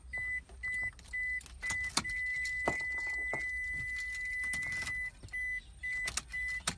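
Car interior during a driving lesson, with a repeating electronic chime pulsing in short bursts and several sharp mechanical clicks and knocks as the gear lever is shifted into reverse, close and moderately loud, no talking.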